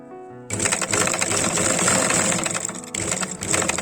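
A sewing machine stitches a child's frog dress in a fast, even rattle that starts abruptly after a quiet moment, runs steadily, pauses briefly, then resumes close and loud.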